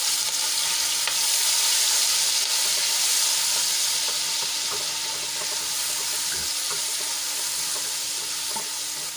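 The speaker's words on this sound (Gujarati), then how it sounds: "એક ચમચી આદુ લસણ અને મરચાંની પેસ્ટ લીધી છે એ એડ કરી દઈશું અને સરસ રીતે તેલમાં સાંતળી લઈશું" Ginger, garlic and green chili paste sizzles in hot oil with asafoetida in a home kitchen pan, a continuous loud frying hiss with occasional stirring clinks and no talking.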